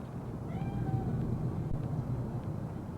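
Cat meowing in the video game Cyberpunk 2077, one short meow early on over a steady low ambient hum, with no other clear sounds after it.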